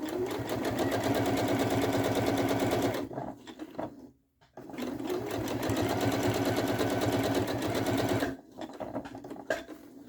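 Domestic sewing machine running a zigzag stitch over fabric to gather a ruffle, a steady, fast mechanical hum that runs loud for about three seconds, stops briefly, resumes, then halts again near the end.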